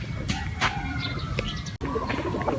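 Racing pigeons at a loft coo softly in a low, murmuring rumble, with brief brighter bird calls and other faint tonal noise over a steady background.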